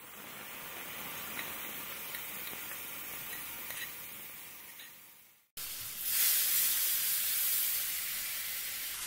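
A spice paste drops into hot oil in a wok already holding cinnamon and cumin seeds, bursting into a loud, steady hiss and sizzle after a short break in the quieter background crackle.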